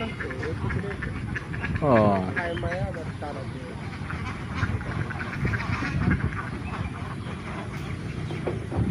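Domestic geese honk in a short burst of stacked calls near the two-second mark as the flock flies past a farm pond, with a background din and someone talking throughout.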